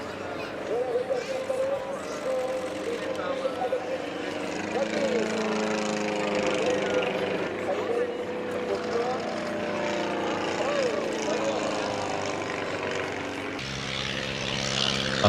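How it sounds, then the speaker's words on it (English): A Rollison Turbulent single-seat light aircraft flies at an airshow, its propeller engine droning steadily throughout with shifting pitch, while someone narrates over it. "flown by Prince Philip, Duke of Edinburgh, making the Turbulent the first and only single-seat aircraft to have been flown by a member of the royal family"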